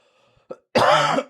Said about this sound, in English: am I coughing so hard?